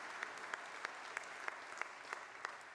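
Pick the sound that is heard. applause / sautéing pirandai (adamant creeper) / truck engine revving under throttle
applause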